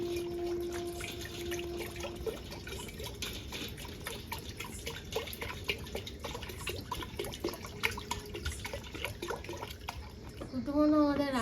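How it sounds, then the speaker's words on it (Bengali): Water poured from a vessel into a wok holding six eggs in a village kitchen, a steady trickling splash with faint drips, while a voice talks over it nearby. "দিয়ে দেবো জল।"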